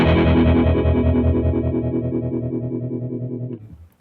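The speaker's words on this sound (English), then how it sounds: "That largely sounds like a tremolo." A sustained guitar chord through a Catalinbread Tremolo8 pedal's tremolo setting pulses rapidly in volume with a steady wavering rhythm, then cuts off near the end.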